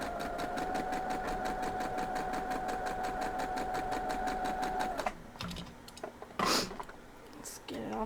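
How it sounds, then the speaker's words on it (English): A sewing machine stitches a broken courthouse steps (potato chip) quilt block in a fast, even chatter of needle strokes for about five seconds, then stops, leaving fabric handling, rustles and a brief soft knock. "We're going to sew this one this way."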